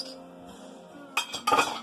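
Ice cubes clink and rattle in a glass in a few quick bursts, bright and close, after a quiet stretch of faint room noise.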